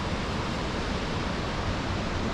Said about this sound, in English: That is the waterfall.